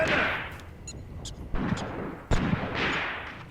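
Mortar rounds and enemy gunfire in the WW2 game Graviteam Tactics, a series of booming blasts and sharp shots at irregular intervals, with heavy thumps around the middle and end.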